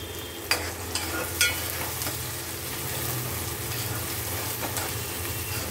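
Fish cooking in a pan with masala of onions, green chillies, coriander, curry leaves, salt, chilli powder, turmeric, cumin and coriander seeds, giving a steady close sizzle with a few brief stirring clinks, no voices.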